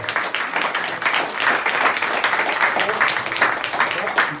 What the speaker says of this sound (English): Round of applause for Rob, guys.